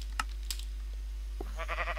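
Sheep bleating in the video game Minecraft, a few short soft bleats spread across a quiet moment with faint clicks, heard alone without talk.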